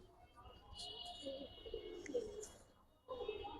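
Giribaz and colored pigeons, including red and yellow gorra birds, coo in soft, repeated rolling calls. There are short pauses between the calls, and faint background noise runs underneath.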